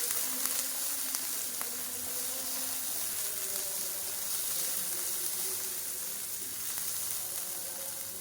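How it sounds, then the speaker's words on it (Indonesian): Vegetables stir-fried in a pan with chopped garlic and shallots plus lemongrass, galangal and bay leaf: a steady, close sizzle of frying with occasional light stirring clicks, continuous for several seconds without talk. "ini aku mau numis sayurannya"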